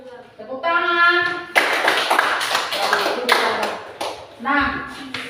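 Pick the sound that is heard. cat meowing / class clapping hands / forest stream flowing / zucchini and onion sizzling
class clapping hands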